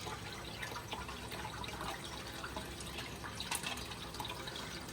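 A Kohler toilet tank refilling with water after a DIY pump fix, heard as a quiet steady hiss and trickle with faint drips, low and continuous.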